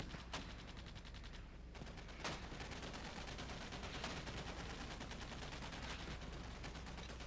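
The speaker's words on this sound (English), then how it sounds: "The mortars are pretty much hitting the defenses" Mortar rounds strike defensive positions in the video game Squad: a few sharp, distant blasts stand out over a steady bed of battlefield noise and scattered gunfire.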